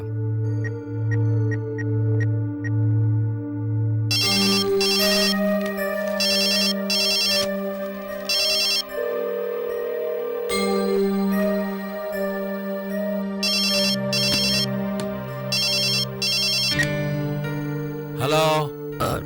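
Telephone ringing with a melodic electronic ringtone, its bright repeating tone patterns sounding in several bursts over a steady chiming backing, alone with no talk.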